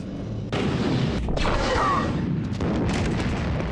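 Gunfire from a weapon in the video game Star Wars Dark Forces 2, a fuel station level: a few booming blasts with reverberant tails over a continuous rumbling game backdrop.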